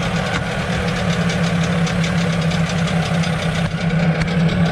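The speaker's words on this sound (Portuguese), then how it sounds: "Agora eu vou funcionar ele para vocês verem aí como foi que esse motor ficou aí" A Suzuki 15 HP outboard motor runs steadily at idle, with a dense, constant mechanical drone and slight knocking throughout, close and loud with no talking.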